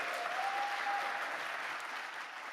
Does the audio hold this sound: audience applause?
yes